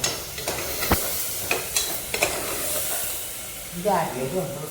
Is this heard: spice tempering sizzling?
yes